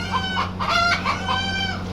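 Chickens cluck and roosters crow at an animal market in Kuwait, a run of repeated calls over a steady low hum, fairly close with no talking.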